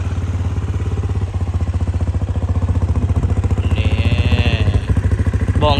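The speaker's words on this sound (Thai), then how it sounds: "สตาร์ทให้ฟังเสียงของเครื่องยนต์กันเลย" A Benelli Imperiale 400 motorcycle engine starts and idles with a steady, rapid putter and light mechanical clatter. It is close and loud, with a faint whine near the end.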